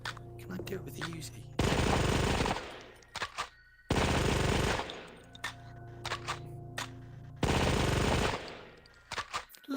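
Bursts of rapid Uzi fire in a virtual reality shooting game, three loud sustained volleys separated by quieter gaps filled with faint game sounds and brief clicks.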